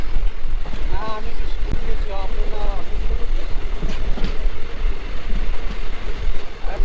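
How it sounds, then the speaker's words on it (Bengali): A train runs through Gorumara National Forest in the Dooars between Siliguri and Lataguri at restricted speed, giving a steady loud rumble and rattle of wheels, with wind buffeting the microphone and a few brief whistle-like tones. "গরুমারা ন্যাশনাল ফরেস্টের মধ্যে দিয়ে আমাদের ট্রেন যাচ্ছে"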